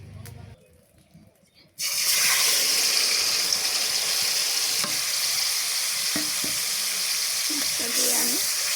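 Marinated hilsa fish lands in hot oil and sets off a loud, continuous close sizzle that runs steadily to the end after a quieter moment of speech and handling.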